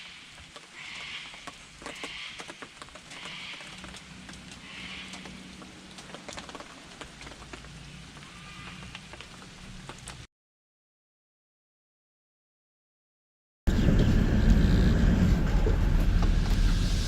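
Steady rain patters at a bush campsite at Murphys Glen, faint and continuous with a few brighter chirps, then cuts to silence before a louder, fuller wash of rain returns.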